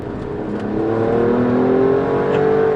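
Alfa Romeo Stelvio Quadrifoglio in second gear, its engine revving up steadily with a strong, rising exhaust note heard from inside on an open road, loud and continuous with no talking.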